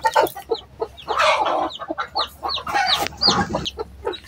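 A hen clucking up close with high peeping newly hatched chicks around her, irregular bursts of clucks and chirps with no talking.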